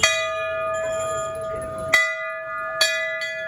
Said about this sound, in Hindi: मैं भी घंटी बजा देता